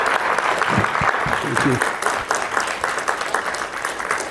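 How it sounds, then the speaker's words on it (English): A lecture audience gives a sustained round of applause, steady close clapping throughout, while a voice briefly speaks over the start. "a thankful hand of applause"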